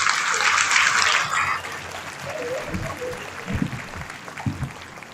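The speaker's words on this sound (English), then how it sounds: "So put your hands for him and applaud him." An audience at a talk applauds a lunar mission project leader, a dense burst of clapping for about a second and a half that fades quickly, followed by someone speaking.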